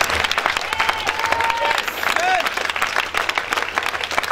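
A church retreat audience in a hall applauding and cheering for Jesus, steady loud clapping from a large crowd with scattered shouts and whistles throughout, a voice speaking over it.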